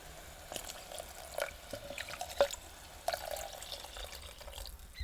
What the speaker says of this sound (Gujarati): એટલે પાણી તો નાખવું જ પડશે એટલે પાણી નાખી દઈએ